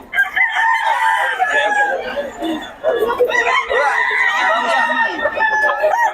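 A hen at a busy open-air market clucks and squawks loudly and almost nonstop, close by, with other chickens calling over low crowd chatter.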